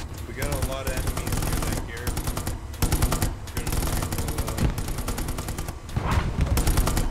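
Light machine-gun fire in a cinematic tank video game rattles in sustained rapid bursts, loud and dense, with brief gaps between strings of shots and battle noise throughout.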